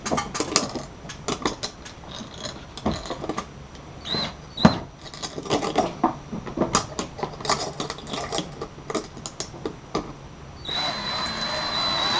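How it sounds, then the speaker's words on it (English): A cordless drill with a screwdriver bit whirs in short repeated bursts, driving screws to install a boat electronics mount, with brief pauses between, close by and moderately loud. "I'm going to grab the drill with my screwdriver bit."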